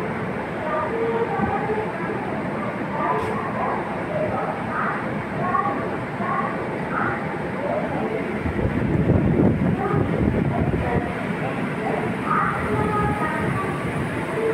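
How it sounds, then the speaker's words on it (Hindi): The Vande Bharat Express pulls into Puri railway station with a steady low rolling rumble that swells mid-way, while people talk in the background on the platform. "वंदे भारत एक्सप्रेस पुरी स्टेशने ढुकछे"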